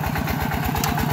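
A tractor engine running in second gear while plowing a rice field, a close, steady chugging thump with an even rapid pulse throughout, no speech.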